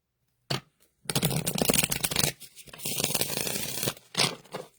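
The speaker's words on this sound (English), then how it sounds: "One more shuffle." Tarot cards are shuffled in several quick riffled bursts with short pauses between them, crisp papery flutters close to the listener.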